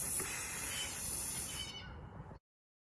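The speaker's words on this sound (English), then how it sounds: "I'm just spraying the hinges here." A steady, close hiss from an aerosol can of WD-40 lubricant sprayed on squeaky door hinges in one continuous burst lasting about two seconds, then silence.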